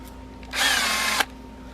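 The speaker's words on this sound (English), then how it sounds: "I'm gonna pre-drill some holes and get them screws put in" A power drill pre-drills screw holes while a cargo trailer is being built into a camper, giving one close, steady whine that lasts about two-thirds of a second before cutting off sharply.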